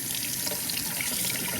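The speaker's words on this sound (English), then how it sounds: "get it nice and soft, and get the water on it" Tap water runs steadily over a sponge being soaked to make a guitar humidifier, a close, continuous splashing hiss with no talk.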